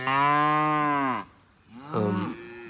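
South Poll cattle on a farm in hot August weather let out two loud, close moos, a long drawn call followed by a shorter one after a brief pause.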